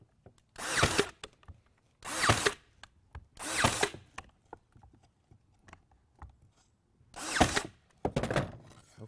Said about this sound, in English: And I'm going to put it to the edge where I can get my nail gun on here.